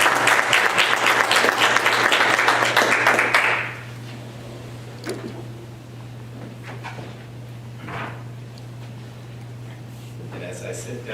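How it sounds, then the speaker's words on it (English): Applause from the audience at a school Board of Education meeting: loud, dense clapping for about three and a half seconds, then it stops abruptly, leaving a quiet room with a steady hum and a few faint knocks. "The community owes you a huge round of applause."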